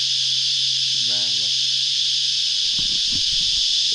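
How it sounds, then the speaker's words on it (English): Loud cicadas along a bush hiking trail make a constant high, dense buzz that fills the whole stretch, with a brief voice and some low movement sounds underneath. "The cicadas are quite loud here."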